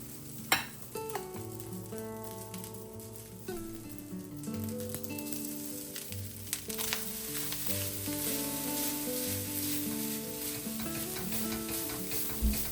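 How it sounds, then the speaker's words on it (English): Eggs, pineapple and other fruit and veggies stir-fry with rice in a hot wok for Thai pineapple fried rice, a loud steady sizzle broken by scraping stirs, with melodic music underneath throughout. "Then I added all the eggs, fruits, and veggies back into the wok to combine everything together."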